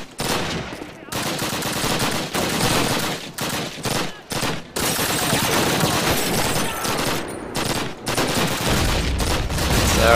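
Automatic weapons fire loudly and almost continuously in Call of Duty 1 at the Warsaw tank factory, with dense bursts broken by short pauses and heavy booms.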